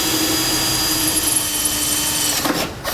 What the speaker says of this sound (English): we'll drill our other holes for the base plate